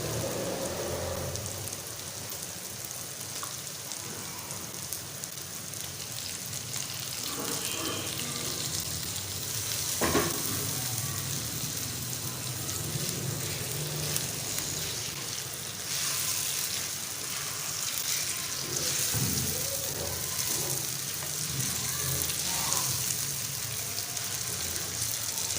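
Chicken liver sizzles steadily in hot masala in a pan, a continuous soft frying hiss with occasional clinks, no voices.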